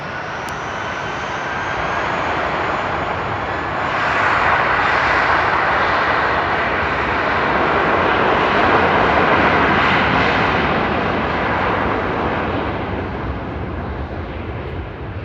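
An airliner's jet engines roar at Frankfurt Airport as it takes off, a loud, broad, sustained rumble that swells in the middle and eases slightly toward the end, with no voices.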